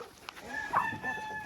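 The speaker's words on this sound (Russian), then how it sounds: "так индюки просят траву" Several farmyard turkeys call insistently for fresh grass, a short burst of close, overlapping clucking and piping cries with one sharper peak midway.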